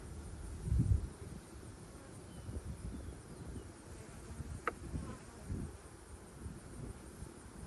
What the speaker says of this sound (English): Wasps aren't good to have around your beehive.